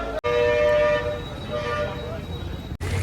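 The New Delhi–Varanasi Mahamana Express passenger train's horn blares in long sustained tones over the rumble of rail cars, with a brief cut in the middle and voices faintly present.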